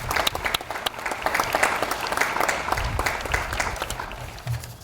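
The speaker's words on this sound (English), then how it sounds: "So let's give them a round of applause." Steady, dense applause from a commencement audience honoring faculty and staff, many hands clapping continuously at a fairly loud level throughout.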